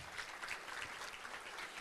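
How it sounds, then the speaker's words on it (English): A crowd at a city civic meeting claps in brief, faint applause, an even patter of many hands heard from a distance. "Let's give them a round of applause."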